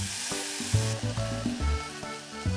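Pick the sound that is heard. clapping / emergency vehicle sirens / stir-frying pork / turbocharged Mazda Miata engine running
stir-frying pork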